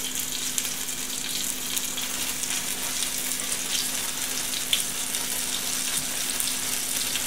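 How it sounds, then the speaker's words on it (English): Steady, dense sizzling of beef browning in hot olive oil in a skillet, continuous and close, with no talking over it. "So I want to brown it in the skillet"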